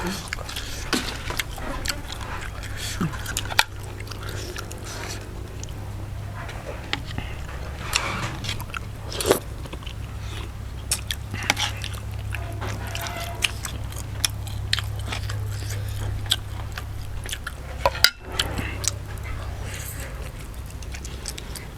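Someone chews chicken curry with wax gourd close to the microphone, soft wet bites and crunches recurring irregularly over a long stretch, with quiet talk around the eating.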